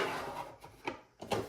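A drawer built into a monitor stand with a docking hub slides open or shut, giving a soft scraping glide followed by a few light knocks and thuds, close and fairly quiet.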